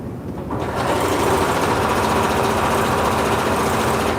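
A sewing machine stitches along the edge of a fur blanket, starting after a brief pause and then running in a fast, steady, close whir for several seconds without talk.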